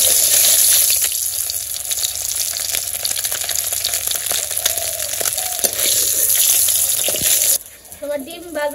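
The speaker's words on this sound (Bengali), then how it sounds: "তোমার ডিম ভাজা হয়ে গেছে ডিম নামিয়ে নিলাম" Eggs fry in a pan with a loud, steady crackling sizzle that cuts off near the end, leaving a brief quieter stretch with faint voices.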